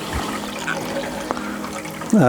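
Hot tap water pours steadily into a jug for a wet bread dough, a continuous close rush that ends in a brief rising tone as the jug fills toward the top.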